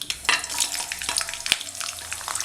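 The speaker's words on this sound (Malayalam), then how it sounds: "കടുക് പൊട്ടിക്കഴിയുമ്പോൾ ഇഞ്ചി, വെളുത്തുള്ളി, പച്ചമുളക്, കറിവേപ്പില അത്രയും സാധനങ്ങൾ ഈ എണ്ണയിലേക്ക് ഇട്ട് കൊടുക്കാം." Ginger, garlic, green chilli and curry leaves sizzle and crackle steadily in hot coconut oil after mustard seeds have popped, for an instant mango pickle, with a stirring scrape partway through; close and alone.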